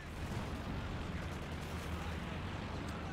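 An anti-infantry strafe attack in a video game comes as a dense, continuous roar of rapid explosions and gunfire, loud and unbroken throughout.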